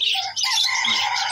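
A flock of birds feeding on pellet feed at a roadside spot squawks and chirps continuously and loudly, with overlapping shrill calls filling the scene.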